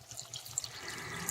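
Water poured as a small splash into chocolate protein cookie dough with peanut butter and vanilla, a brief faint trickle and drip at close range with no talking.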